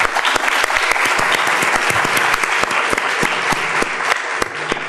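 Audience applause at a Portuguese-language author event, a dense steady wash of many hands clapping for the whole stretch, loud and close, with no talk over it.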